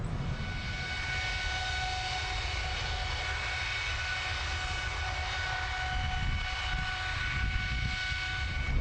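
GE90-115B jet engine on a test stand accelerating toward triple red line, a steady, powerful roar with sustained tonal whine lines holding throughout, no voices over it.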